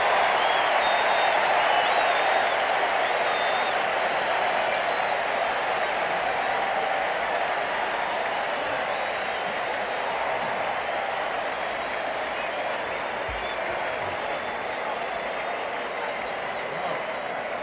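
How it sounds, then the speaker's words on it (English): A big baseball crowd at a 1967 Twins vs. Red Sox game roars and applauds after a double to left center, a steady dense wash of cheering and clapping that stays loud throughout. "this big crowd has come alive. They've been waiting to explode all afternoon"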